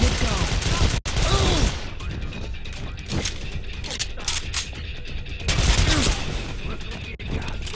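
Gunfire in the video game Call of Juarez: sharp shots and clattering impacts come in bursts with a loud crack near the start, mixed with game sound effects and a few spoken words.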